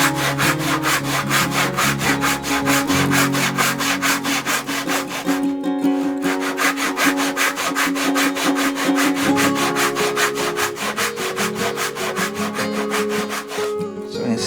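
A hand saw cuts wooden joinery for a cupboard door in rapid, even back-and-forth strokes, loud and close, with one brief pause midway before the rhythmic rasping resumes to the end.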